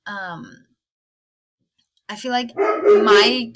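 Several dogs bark in a home, a short burst at the start, then louder barking again after a pause, mixed with a person talking nearby.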